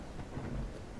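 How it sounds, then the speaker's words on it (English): A distant thunder rumble rolls low and broad in RailRoads Online, a brief muffled boom over a steady wash of rain and wind, fairly quiet. "That was a nice crack of lightning out there in the distance."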